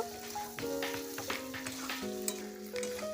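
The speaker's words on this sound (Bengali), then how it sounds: "আলুগুলো দিয়ে ভালো করে আমি কষিয়ে নেব" Boiled potatoes are sautéed in a pan for Kashmiri aloo dum, a steady close sizzle with a few soft stirring scrapes, plus a faint sustained tonal hum in the background.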